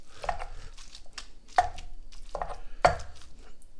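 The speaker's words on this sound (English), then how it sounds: "let's crush it in with our onion, charred jalapeno." Avocado is crushed together with onion and charred jalapeno for guacamole, three or four distinct squelching thumps spaced about a second apart, close and fairly loud, with no voices.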